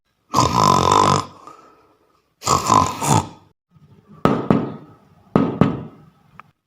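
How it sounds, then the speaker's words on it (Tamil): Door knocking at midnight in a comedy scene: two long, rough, noisy bursts come first, then two pairs of sharp, loud knocks. "இந்த நேரத்தில் யார் கதவை தட்டியிருப்பா"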